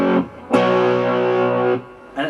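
Electric guitar power chords with heavy distortion during a guitar lesson. A short chord is followed by a loud chord held for over a second, then a new chord attack begins, played alone without talk.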